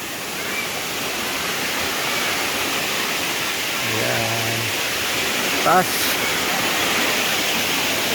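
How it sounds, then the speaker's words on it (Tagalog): A waterfall roars in a steady, broadband rush from start to finish, with a few brief voices speaking over it, at Balagbag Falls in Real, Quezon. "kasi doon ang bagsak ng tubig"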